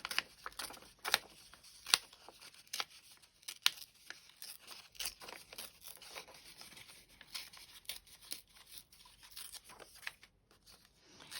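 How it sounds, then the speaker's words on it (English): Paper being torn by hand in a series of short, crisp rips and crinkles, close and quiet, with irregular pauses between tears. "I'll rip her out around those sort of rips that are going on here"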